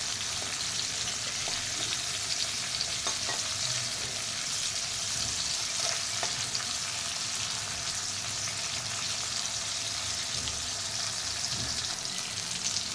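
Bitter gourd pieces fry in a pan over low gas with a continuous, moderately loud sizzle and faint crackles, steady throughout with no talking.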